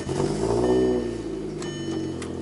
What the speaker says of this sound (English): See, a rough start because I'm not getting enough fuel on startup.